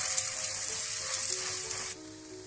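Radish paratha cooks in a pan, sizzling steadily and close as it is moved around, the frying hiss dropping sharply near the end.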